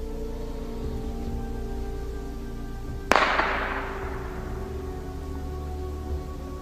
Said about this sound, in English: Somebody just shot over into the woods.